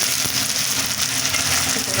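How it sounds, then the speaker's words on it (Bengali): Bay leaf with ginger and green chili paste fries in hot oil for pulao, a steady close sizzle with light scraping as it is stirred. "আর তেজপাতাটা দিয়ে হালকা দিয়ে নাড়িয়ে একটু আদা বাটা আর একটু কাঁচা লঙ্কা বাটা দিতে হবে"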